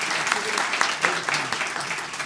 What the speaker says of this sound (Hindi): आप सब लोग अपने लिए जितने ज़ोर से तालियां बजा सकते हैं बजाइए।